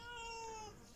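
A single cat meow, faint and drawn out for about a second, heard alone in a quiet indoor space.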